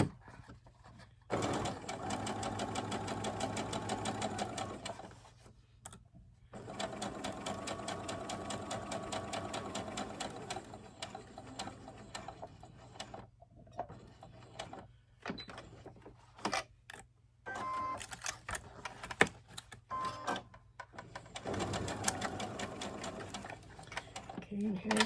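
A sewing machine stitches thick fabric for a gift in rapid, steady runs, stopping and starting in several bursts with small mechanical clicks between, and someone talks quietly in the pauses.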